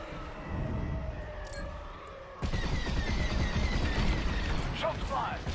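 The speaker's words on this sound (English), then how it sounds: "Shots fired." Starfighter weapons fire in the Star Wars: Squadrons space combat game: a quieter hum gives way to a sudden burst of rapid blaster shots and explosive bursts, loud and close, with a few sharp sweeping tones.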